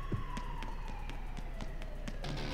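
A police siren in Payday 2 wails steadily in the background, its long descending tone sweeping under a busy mix of game sounds and light tapping.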